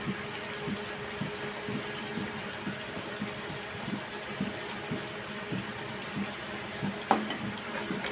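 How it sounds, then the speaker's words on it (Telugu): Fried paneer pieces being stirred into a masala gravy for paneer butter masala, a steady soft sizzle with repeated scraping stirs and one sharper clink near the end, with no talk. "ఇలా ఆయిల్ పైకి వచ్చిన తర్వాత మనం ముందుగా ఫ్రై చేసి పెట్టుకున్న ఈ పన్నీర్ ముక్కల్ని ఇందులో వేసుకోవాలి"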